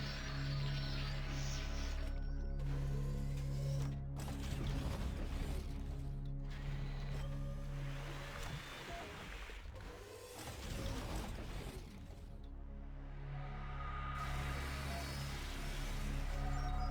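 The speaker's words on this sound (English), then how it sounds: "When a robot gets to a plant, it will chop it to pieces with its chainsaw arms" A harvester robot in the Space Colony video game chops plants with its chainsaw arms: a steady mechanical grinding and ratcheting churn with whooshing swells, no voices.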